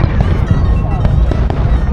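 New Year fireworks explode in a continuous loud barrage of bangs and crackles, with sharp reports scattered over dense rumbling and voices in the background.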